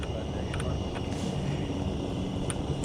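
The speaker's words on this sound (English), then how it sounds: "That airplane's taking off." A fixed-wing airplane takes off in the distance, its engine a steady, faint drone heard from a hot air balloon in flight, mixed with broad wind and air noise.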